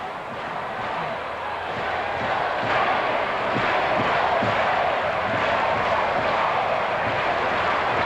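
A large baseball stadium crowd at a 1990 Padres vs Braves game keeps up a loud, sustained roar of cheering and shouting, with a few sharp claps or thuds, broad and distant-sounding throughout.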